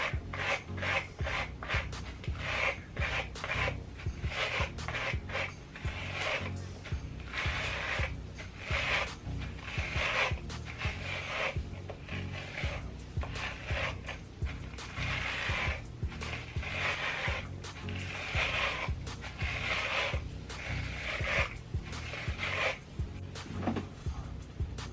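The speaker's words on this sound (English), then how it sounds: "I'm going to go in with Tangle Teaser and just detangle" A Tangle Teezer brush pulled through hair coated in conditioner makes a rhythmic series of close, rasping strokes, repeating about once a second with no talk.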